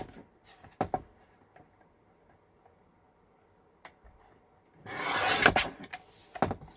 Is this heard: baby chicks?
no